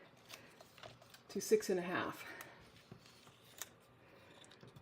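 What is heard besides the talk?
paper being cut to size for a scrapbooking kit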